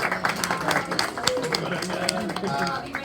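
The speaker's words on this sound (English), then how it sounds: "Give him a round of applause" Clapping for Peter Chase at a high school media banquet's senior awards, a room of hands applauding with distinct claps, mixed with voices talking over it.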